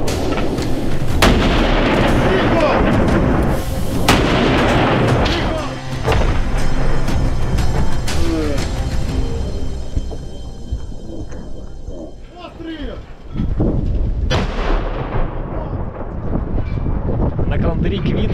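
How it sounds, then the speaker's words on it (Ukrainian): Loud booming artillery blasts and gunfire during street fighting in Bakhmut, close and harsh, with wind buffeting the microphone and a pause in the middle before the firing resumes. "Постріл!"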